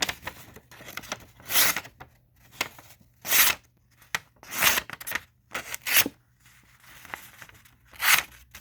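A KA-BAR TDI knife blade cuts in a series of short rasping, tearing strokes, about seven bursts spaced a second or so apart, close and crisp with quiet gaps between.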